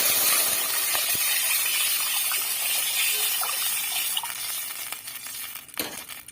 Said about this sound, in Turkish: Şimdi salçam kavruldu. Suyunu ilave ediyoruz.